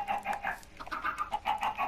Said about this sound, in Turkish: Gördüğünüz gibi tonla tavuğumuz oldu